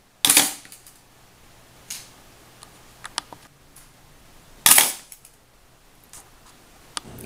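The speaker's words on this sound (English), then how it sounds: "hit the shutter button, which clicks with a delightfully mechanical sound." A Pentax K1000 film camera's mechanical shutter fires twice with sharp, close clicks several seconds apart. Softer ticks and small handling clicks from the camera fall between them in an otherwise quiet room.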